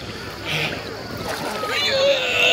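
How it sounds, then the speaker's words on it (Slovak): Water splashing and sloshing close by while swimming in the sea off Capri with a camera, irregular bursts of splatter with a voice faintly audible underneath. "A ideme si aj zaplávať s kamerou."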